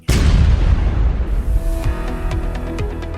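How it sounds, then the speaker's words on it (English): Cannon fire from a World War II surplus German heavy Gustav cannon: one loud, deep boom that rolls on in a long rumbling decay, with some sharp ringing tones toward the end. "We use a World War II surplus German heavy Gustav cannon to launch the remains of your loved one 12 nautical miles out into the ocean"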